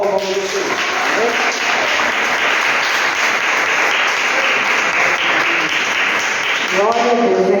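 Dense, loud applause from a church congregation fills the space for about six seconds, steady and unbroken, with voices speaking briefly before and after it.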